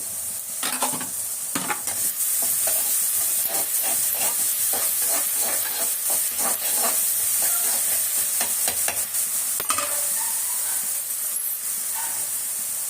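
Ginger garlic paste sizzles loudly as it fries in a pan, with continuous hissing and repeated scraping stirs throughout, close up and with no talking.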